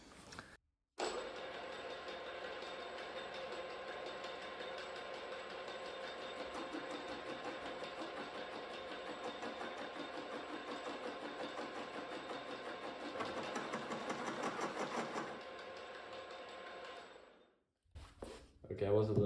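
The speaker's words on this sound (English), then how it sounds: "that noise you can hear, that sound kind of bad. I think it's coming from these gears here" Gears grind in a machine while a new steering and pivoting joint for a two-stroke Yamaha outboard motor is machined, a sustained droning whine lasting about seventeen seconds, fairly quiet and steady, swelling slightly near the end before stopping.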